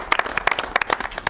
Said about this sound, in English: So we'll clap for her